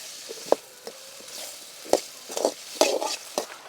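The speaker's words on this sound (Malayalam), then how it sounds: "ഇനി ഇതിനെ ഒന്ന് ഇളക്കി തക്കാളിയൊക്കെ ഒന്ന് വെന്ത് വരട്ടെ." Chopped tomatoes being stirred in a pan for a chutney without coconut, with a soft sizzle under a few distinct scraping and tapping strokes of a spoon against the pan, spaced irregularly.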